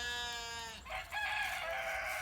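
Chicken run with hens and roosters, including a Buff Orpington: a close, loud rooster crow breaks off into squawking and clucking from the flock, over faint background noise.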